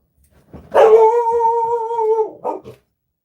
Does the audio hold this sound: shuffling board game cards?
no